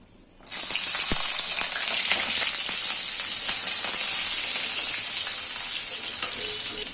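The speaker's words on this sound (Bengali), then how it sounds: "ভাজবো রসুন।" Garlic dropped into hot mustard oil in a pan for a dried-fish bhorta bursts into a loud, steady sizzle after a brief quiet start, with occasional pops and crackles over the continuous frying hiss.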